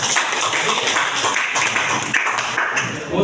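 A classroom audience of students claps steadily, a dense, loud patter of many hands going on without a break.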